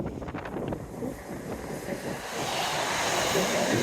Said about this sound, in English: heading back into the wind now